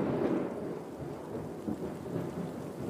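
A thunderstorm rumbles on with a continuous wash of rain, low rolling thunder swelling and easing throughout, fairly distant.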